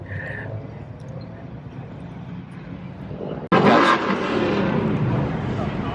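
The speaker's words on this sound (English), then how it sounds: "Got dudes revving and stuff." Car engines at a car meet with Mustangs, including a GT500, burst into a loud, close rev midway through, after a steadier engine rumble and background crowd noise. People talk nearby.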